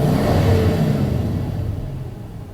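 The engine of a 2002 Toyota Sequoia SUV revs with a broad, throaty rumble that swells early and then slowly eases down, heard close and steady with no talking.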